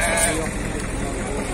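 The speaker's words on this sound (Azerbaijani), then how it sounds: "Neçədir bu qoyunlar, kardeş?" Sheep at a livestock market in Füzuli, bleating through a dense, constant crowd murmur, with voices talking nearby in a noisy open-air setting.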